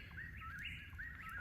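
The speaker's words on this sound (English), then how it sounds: "now we got this lovely bird singing like crazy" A songbird sings near a blazing campfire in the woods, quick bright whistled phrases rising and falling in repeated bursts, fairly close, over a low faint crackling background.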